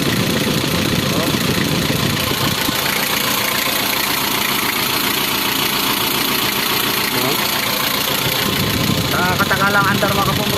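A Nissan Urvan DT 27 diesel engine with an overheating fault runs loudly and steadily close by, a dense rough mechanical drone with a clattering knock, while people talk over it.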